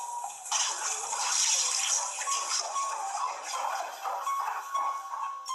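Water splashes and rushes inside a narrow tunnel, a steady sloshing, churning wash that carries on for several seconds with no voices over it.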